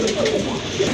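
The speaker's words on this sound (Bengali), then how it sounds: "অনেক বড় সাইজের এক জোড়া পোটার কবুতর" A pair of large pouter pigeons coo in a brief, soft, low burble, close by and heard alone.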